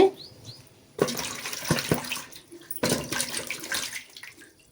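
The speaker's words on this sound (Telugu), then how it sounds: "మట్టి అంతా పోయేటట్టుగా ఈ విధంగా కడుక్కోవాలి" Sweet potatoes being washed by hand in water to clear off soil, with two bursts of splashing and running water separated by brief quiet moments, close and fairly soft.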